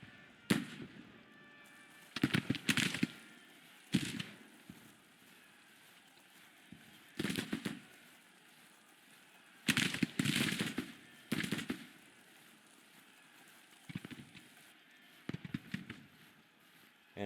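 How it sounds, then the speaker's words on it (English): Musket volleys in the Grand Tactician Civil War strategy game battle at Chancellorsville, sharp crackling bursts repeating irregularly every second or two, some near and loud, others thinner and farther off, over a quiet ambient bed. "Charleston's Guard is starting to also take flanking fire"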